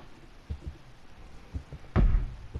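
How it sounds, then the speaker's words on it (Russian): Dull knocks from behind a bathroom door in the horror game P.T., a few soft separate thuds followed by one louder, heavier bang near the end, fairly close against a quiet dark ambience. "Кто-то там стучит"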